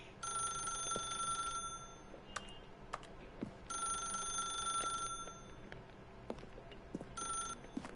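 A telephone rings in The Stanley Parable, three long bursts of bright electronic trilling split by short pauses, with faint clicks and ambient noise underneath and no speech.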